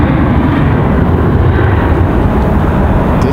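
A Southwest airliner departing from Raleigh-Durham International Airport, its engines giving a loud, steady broadband roar that holds evenly throughout without pause, with no voices present.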